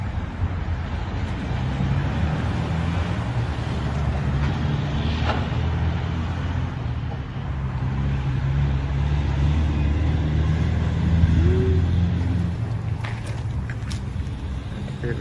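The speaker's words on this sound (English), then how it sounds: "out driving the rear end, breaking it in his Jeep" A Jeep with a newly regeared Dana 44 rear axle and Yukon posi driving nearby, a steady low engine and road rumble that swells gently as it passes, continuous throughout.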